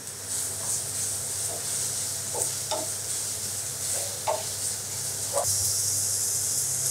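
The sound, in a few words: frying onion with ginger and garlic paste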